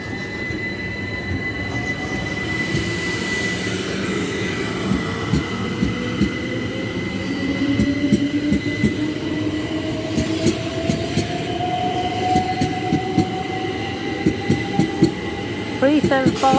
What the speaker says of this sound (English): 1618 South Eastern Service to London Charing Cross via Ashford, Tunbridge, Sevenoaks 375 616 and 708.